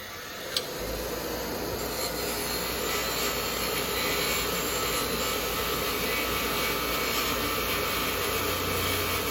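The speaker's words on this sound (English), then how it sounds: "We're going to use our grinder with the wire wheel." A grinder spinning a wire wheel cleans an anode rod from a horse trailer, a steady, loud whirring hiss that starts abruptly and holds evenly throughout.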